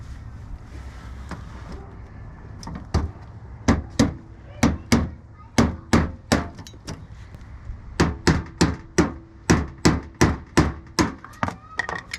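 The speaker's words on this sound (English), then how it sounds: "Problem solved. Needed a hammer." Sharp hammer blows strike plastic clips in quick bursts, a steady run of hard knocks with short pauses between groups, close by over faint background noise.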